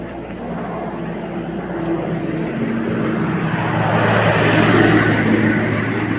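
A car passes close by on a street beside roadworks, a steady broadband engine and tyre rumble that swells gradually and peaks near the end, with no talk over it.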